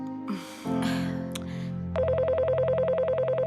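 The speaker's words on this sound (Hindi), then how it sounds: "ये देखो, फोन बज रहा है।" Telephone rings with a continuous electronic trilling tone that starts abruptly after some brief bumps and rustling, then repeats in a steady, fast warble.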